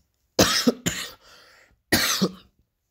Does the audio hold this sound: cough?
yes